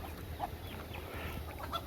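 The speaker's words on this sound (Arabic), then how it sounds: "هون في دجاج وصيصان وبط" Chickens clucking in a poultry yard kept with chicks and ducks, soft scattered clucks close by over steady outdoor background noise.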